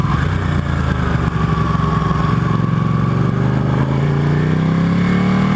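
A Ducati 899 Panigale motorcycle being ridden, its engine droning loud and continuous close to the microphone, with pitch rising steadily as the bike accelerates, mixed with wind noise.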